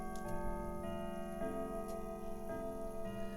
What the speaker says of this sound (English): The clock tower chimes.